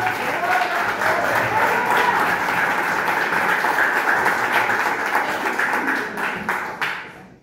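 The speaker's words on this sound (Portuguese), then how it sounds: "Aplauda o Senhor para você" A congregation at a church service gives sustained, dense applause that fills the room, fading out toward the end, with voices mixed faintly into the clapping.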